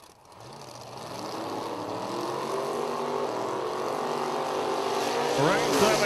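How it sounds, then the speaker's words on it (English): Two drag cars roar through side-by-side burnouts at a street drag racing event, one an '86 Monte Carlo with a 632 cubic inch engine; loud, steady engine drone builds over several seconds and surges sharply near the end. "side by side, burnouts coming at you"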